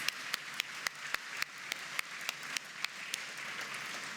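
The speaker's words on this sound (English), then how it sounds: "Let's give them another round of applause." Audience applause at a community morning event, a thin, fairly faint run of scattered hand claps with sharp individual claps standing out at a steady pace.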